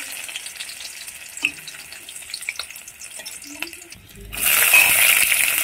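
Whole garlic dropped into hot oil, starting with faint clinks and stirring before the sizzle swells suddenly into a loud, steady frying hiss.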